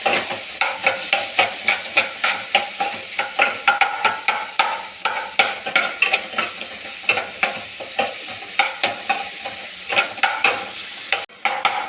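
Bitter gourd curry being sautéed with Kashmiri chilli powder: a spoon stirs and scrapes steadily through a sizzling pan, the repeated scraping strokes loud and close with a constant frying hiss beneath.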